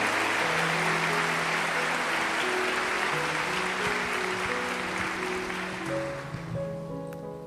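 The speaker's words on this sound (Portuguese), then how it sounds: "Aplaudir essa palavra, esse roteiro de cura." A church congregation applauding at a Catholic service, a dense sustained wash of many hands clapping that fills the room, with faint musical tones underneath and a slow fade near the end.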